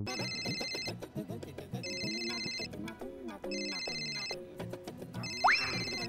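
A telephone rings in a domestic sitcom scene: repeated electronic ringtone bursts in a regular on-off rhythm over background music, fairly loud and close, with a rising whoosh effect near the end.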